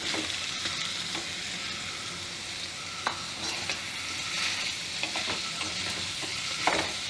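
A jackfruit seed curry with coriander sizzles steadily in a pan over low heat, a constant close frying hiss with occasional sharp scrapes and clinks from stirring, and no voices.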